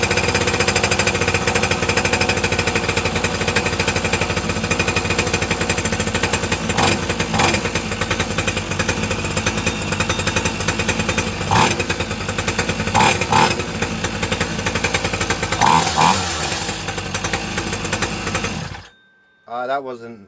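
A 50cc two-stroke mini moto off-roader fires on a cold start and keeps running with a loud, rapid rattling buzz that revs slightly, then cuts off abruptly near the end, followed by brief quieter sounds.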